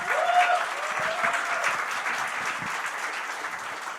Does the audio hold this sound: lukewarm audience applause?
yes